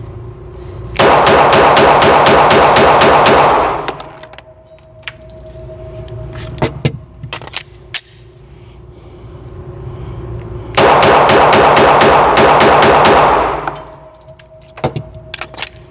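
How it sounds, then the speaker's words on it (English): Two long bursts of rapid Glock pistol fire at 5 yards, dozens of sharp cracks in quick succession, separated by a pause with scattered clinks of falling brass and a few single shots. "So at 5 yards, we just let off about 30 rounds to the chest area"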